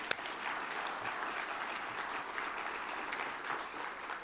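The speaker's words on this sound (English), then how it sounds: "So let's give them another round of applause." An audience claps through a formal State of Indian Nations address by the NCAI president, a sustained, even burst of applause from a large crowd heard at moderate distance.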